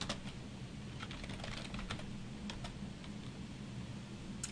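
Quiet, rapid typing on a computer keyboard at a terminal, a faint stream of light key clicks over low room hiss.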